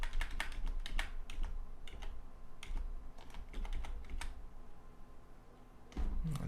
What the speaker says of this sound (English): I just reposition my arrow using my arrow keys